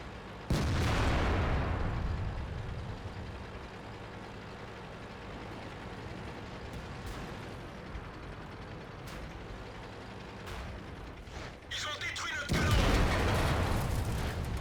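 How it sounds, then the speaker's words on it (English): A gun fires in a video game with a sudden loud boom followed by a lingering rumble, then a second heavy blast near the end over steady background game noise. "as he will fire a shot"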